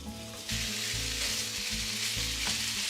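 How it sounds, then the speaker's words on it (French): Minced meat fries in olive oil in a pan with a loud, steady sizzle, broken by periodic scraping as it is stirred, all close up with no talking. "on fait chauffer de l'huile d'olive dans une poêle et on va faire cuire de la viande hachée"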